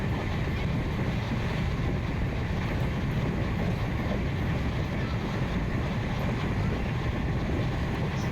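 Sairang Express train running on its way toward Manigram station near the Sagardighi thermal power plant, a steady, dense rumble and rush of wind that holds unchanged throughout with no distinct beats.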